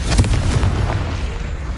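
A Confringo spell blast in a Harry Potter video game, booming out as one loud, dense burst with a low rumble that decays over about two seconds.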